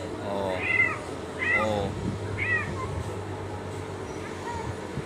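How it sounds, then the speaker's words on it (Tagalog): Several cats meow nearby in a cluster of three drawn-out, rising-and-falling calls, followed by a fainter fourth meow, over a steady background hum with a person briefly speaking. "Dadami na naman ang pusa dito"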